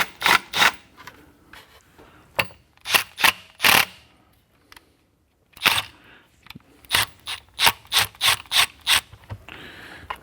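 A fitting is being threaded onto a Comet Static 1700 pressure washer, giving a series of short, close scraping and ratcheting bursts in two clusters separated by a brief quiet pause.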